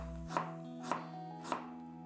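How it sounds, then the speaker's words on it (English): Ginger chopped into small pieces with a knife on a board, three evenly spaced crisp chops over a quiet kitchen background. "Next, chop ginger into small pieces."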